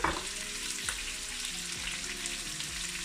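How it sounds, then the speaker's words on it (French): Chopped onions tipped into a hot frying pan for rougail saucisse, giving a steady dense sizzle with a few soft stirring scrapes and no voices. "je vais rajouter les oignons que j'avais coupés préalablement. Donc on ajoute les oignons. Donc on tourne un peu."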